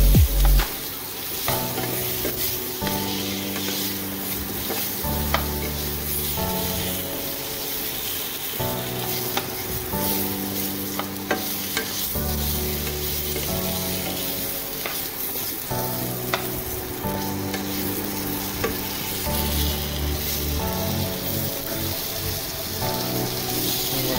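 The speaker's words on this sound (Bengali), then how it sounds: "আলুটা ভেজে নেব, হালকা একটা হলুদ দিয়ে দেবো। তো হলুদ দিয়ে দিয়েছি, ভালো করে নেড়ে নেবো এটাকে।" Potato pieces fry in a pan with a little turmeric, a continuous close sizzle broken by repeated spatula scrapes and stirs, while a musical tune plays steadily underneath.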